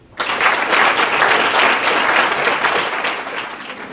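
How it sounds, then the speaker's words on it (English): An audience at a university speech competition bursts into applause for a speaker, loud dense clapping starting abruptly and holding steady before easing slightly toward the end. "Please give a round of applause for Barcelo."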